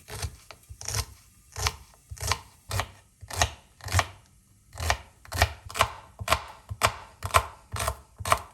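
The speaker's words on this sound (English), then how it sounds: "Meanwhile, let's chop garlic," A knife chops garlic on a cutting board in a steady run of sharp, close taps, about two per second, with brief pauses between bursts and no talking.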